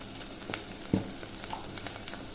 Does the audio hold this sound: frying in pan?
yes